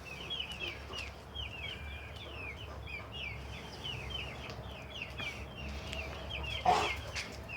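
Chickens, including a Plymouth hen, cluck and call steadily in a clean coop in Muğla, the overlapping clucks repeating over a low background hum with no talking.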